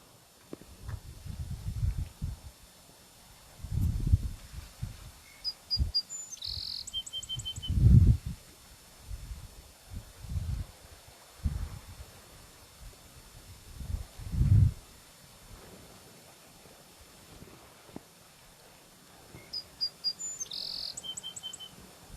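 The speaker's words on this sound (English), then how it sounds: "So you guys are hearing the chirping sound, and the bird is in the tree right here" Small bird chirping from a tree beside a moraine trail, short high calls repeating at two spaced moments, faint and distant over soft outdoor ambience with low thumps and rustling nearby.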